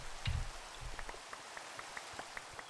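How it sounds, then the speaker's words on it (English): Rain falling in Minecraft SkyFactory 3, a soft steady patter of scattered drops at moderate distance, with a low thump near the start. "our barrels are filling up because it's raining"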